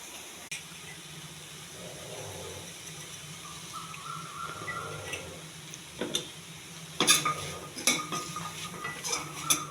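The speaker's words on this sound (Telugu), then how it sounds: "కొబ్బరి వేసినాక కాసేపు కలపాలి." Grated coconut is stirred into a carrot fry in a pan: soft scraping and stirring early on, then sharper, louder clinks of a utensil against the pan toward the end, close and without talk.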